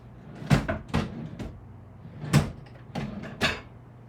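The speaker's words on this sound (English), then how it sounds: "gotta have the drawer with the note cards" A studio drawer opened and closed several times, giving sharp wooden knocks and short sliding thuds in irregular clusters, fairly quiet and close, with no talking.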